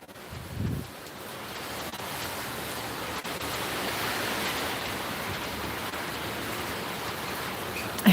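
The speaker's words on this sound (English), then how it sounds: "Yes, raining in Cabarete" Steady rain falls in Cabarete, Dominican Republic, a broad even hiss that holds for about eight seconds after a brief low thump at the start, with no voices.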